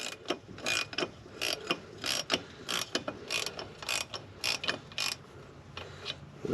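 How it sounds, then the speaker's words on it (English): A puller is cranked down to draw the yoke off a Jeep Gladiator's transfer case, giving a steady run of close, rhythmic metallic ratcheting clicks in short bursts. "So we'll go ahead and crank this thing down, get this yoke pulled off the transfer case"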